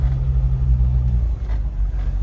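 A Jeep Wrangler JK with an aftermarket exhaust gives a loud, steady low rumble while driving, and the pitch dips and shifts partway through.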